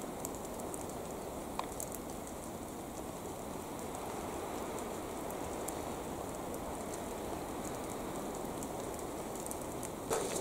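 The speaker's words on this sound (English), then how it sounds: "It's raining." Steady rain falls through the Te Urewera forest near Lake Waikaremoana, a soft even patter and hiss on leaves and ground that continues evenly throughout, with a few sharper drips standing out.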